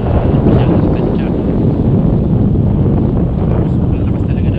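Strong wind roars continuously against the microphone, a loud, dense rumble with no letup.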